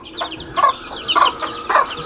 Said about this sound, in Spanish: Un gallón.